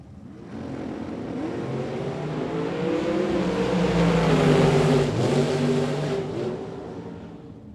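A Mullis chassis dragster runs at a drag race with a loud engine roar that swells and peaks mid-way, then eases off slightly, heard at a distance over a broad, noisy wash of track sound.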